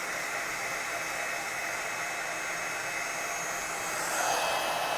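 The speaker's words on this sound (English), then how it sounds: "So I'm going to heat up my heat tool." A heat tool used to heat set fabric for an art journal runs with a steady, loud, close hiss and blowing roar throughout, shifting slightly near the end.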